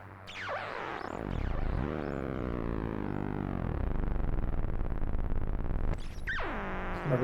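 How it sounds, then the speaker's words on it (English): Filtered synth sound drenched in reverb, a loud sustained wash of tone with swooping pitch movements and a long smeared tail, alone without voices. "Bit of reverb."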